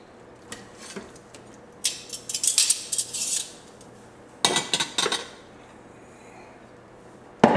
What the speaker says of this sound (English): we're going to take this out of the pot